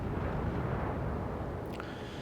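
Battleship main guns firing rounds in World of Warships, the USS Colorado's salvo a deep, heavy rumbling boom that rolls on continuously, with a brief sharp crack near the end.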